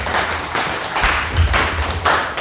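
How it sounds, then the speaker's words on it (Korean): An audience at a Uiseong County youth centre program briefing claps to welcome a speaker, a short, dense burst of steady applause with a loose rhythmic beat. "박수로 맞이해 주세요"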